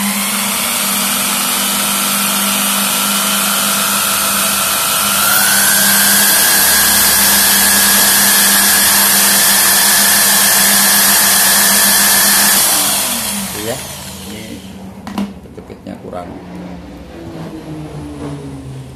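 A mini dynamo generator drives a steady, loud whine that climbs in pitch partway through as its RPM rises, holds, then winds down and fades into quieter clatter near the end.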